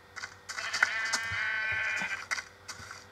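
A sheep in the Minecraft video game bleats once, a clear, wavering mid-pitched call lasting about a second, set among soft clicks and light background game sounds.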